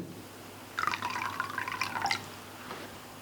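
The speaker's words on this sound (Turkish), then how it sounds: "Yarım çay bardağı elma sirkesi." Apple cider vinegar is poured into a sea bass marinade of orange juice, lemon juice and olive oil, making a brief, close liquid trickle that lasts about a second and a half.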